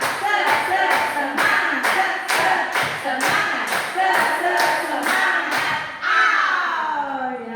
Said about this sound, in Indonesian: kasih tepuk semangat bersama-sama. Tepuk semangat.